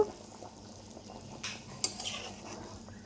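Fried banana-blossom koftas go into simmering curry gravy, marked by quiet utensil clinks and a couple of sharper scrapes against the pan over a soft bubbling background.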